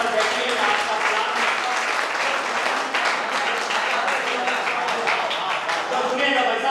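An audience applauds at a Hindi poetry recital, dense sustained clapping that runs through the whole stretch, with a voice audible beneath it near the end.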